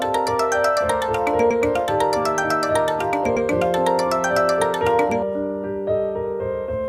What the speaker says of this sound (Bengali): একটা ফোন আইছে আমার।